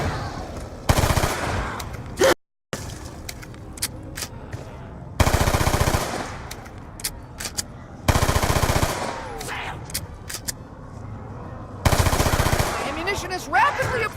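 Rapid automatic gunfire from a video game, Black Ops 2 Zombies on the Buried map, in four loud sustained bursts separated by short pauses, with scattered single shots and game effects between them.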